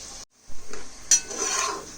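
Onions sizzle in oil and are stirred for Tamil Nadu style mutton biryani, a steady frying hiss broken by a short pause and a few close spoon scrapes against the pot.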